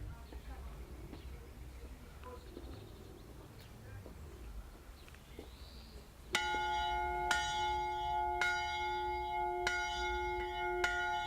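Church bells ring out in Castelnou, with regular, resonant strikes that begin after a quiet stretch of outdoor ambience and then peal on loudly and steadily, each stroke leaving a long shimmering tail.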